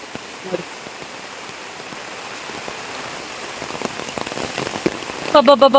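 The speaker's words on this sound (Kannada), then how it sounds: "ಈಗ ನಾನು ಎಂತ ಬೊಬ್ಬೆ ಹಾಕಿದವರಿಗೆ ಕೇಳುದಿಲ್ಲ ಅಷ್ಟು ಮಳೆ ಬರ್ತುಂಟು ಜೋರಾಗಿ" Heavy rain pours down in a dense, continuous patter on surfaces nearby, loud and steady throughout, with a brief thudding knock at the very end.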